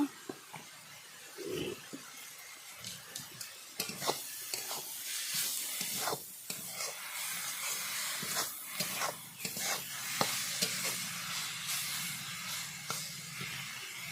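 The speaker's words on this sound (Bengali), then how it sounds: "যতক্ষণ জলটা না মরবে ততক্ষণ এভাবে নাড়াচাড়া করতে থাকতে হবে।" Pea leaf greens fry in oil in a pan while being stirred, giving a soft, low hiss with intermittent scraping and clattering strokes that grow busier toward the end.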